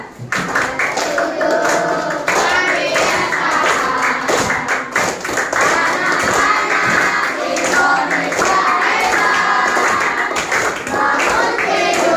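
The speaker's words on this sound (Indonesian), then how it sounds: "coba kita sekali lagi tepuk 7 kebiasaan anak Indonesia hebat" A group of children claps the rhythmic '7 habits of great Indonesian children' clap during a classroom session, patterned claps and taps in steady sequence, with voices chanting along throughout.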